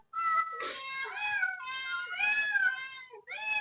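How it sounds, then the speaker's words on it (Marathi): A house cat meows repeatedly at close range, a run of clear, drawn-out cries with short pauses between them. "माऊ तू आपलं लास्टला थांबायचं बाई"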